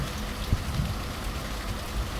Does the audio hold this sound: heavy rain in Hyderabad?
yes